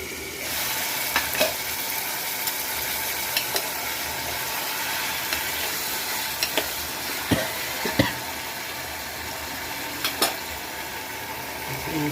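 Potatoes frying in a pan with asafoetida for a potato curry, giving a steady, dense sizzle throughout, close and fairly loud, with occasional sharp pops and clicks of a utensil, and no speech.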